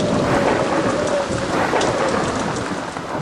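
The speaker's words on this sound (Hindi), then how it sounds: "बाहर से आ रही बारिश की आवाज और पत्तों की सरसराहट" Heavy rain pours steadily outside with a low rumble of thunder rolling beneath it, a dense, loud and continuous wash of rainfall with no voices present.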